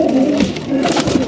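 A Ferozpuri pigeon gives a short, low cooing call up close, with a voice talking faintly alongside.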